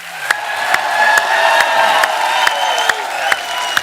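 A studio audience at a comedy show birthday celebration applauds steadily with scattered cheers and a few sharp whoops, loud and dense, running continuously without pause.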